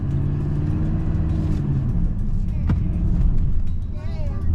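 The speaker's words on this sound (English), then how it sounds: "I gotta rev it up." An engine with a broken transmission runs off-road on a beach, producing a steady, close, heavy rumble that swells slightly near the end, with a brief higher whine at the close.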